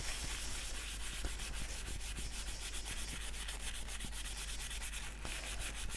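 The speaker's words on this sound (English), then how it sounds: "Then I've got the pot scourer." A pot scourer scrubs a plastic watercolour palette in quick, even back-and-forth strokes, making a close, steady abrasive rasp with no talking.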